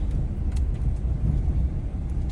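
Car driving across a food products depot, a steady low rumble of engine and road noise holding close and even throughout, with no voices.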